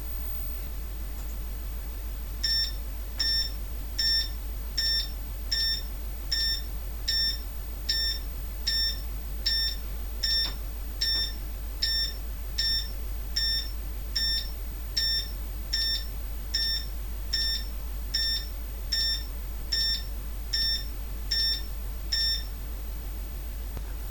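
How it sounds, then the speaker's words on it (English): The bell sounder of an ADM-3A computer terminal beeps in a long regular series of short, bright electronic tones, about one per second, while text streams to the screen over a constant low mains hum. "The beeping is because I've got the bell sounder on"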